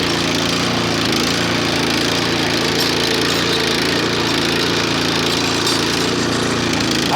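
A WEIMA walk-behind tractor engine runs in first gear, producing a loud, continuous, rough mechanical roar that stays even and close throughout, with no speech.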